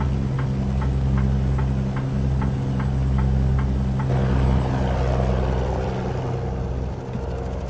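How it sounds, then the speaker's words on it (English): A turn signal ticks steadily and evenly inside a truck cab in American Truck Simulator, about nine clicks over a loud, constant engine drone. "Sounds like a truck with the turn signal left on"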